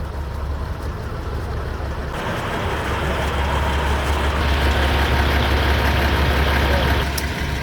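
A transport truck rig from an auto transport outfit idles nearby, a steady low diesel rumble with a broad hiss above it, rising slightly in the middle and then settling, with no voices.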